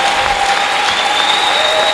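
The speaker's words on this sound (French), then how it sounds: "Est-ce que tu peux d'abord exagérer dans les acclamations pour notre Dieu?" A church congregation cheers and applauds loudly for the full two seconds, with dense, steady clapping and crowd noise throughout.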